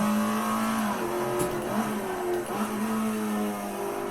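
An Alfa Romeo 33 Stradale engine held in third gear in Assetto Corsa, a loud steady racing drone whose pitch rises and dips slightly as revs change, close-up with no talking.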